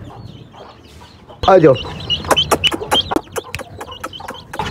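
Young Aseel chicks cluck and peep sharply while being handled up close, with a burst of loud, rapid chirps and someone speaking in between.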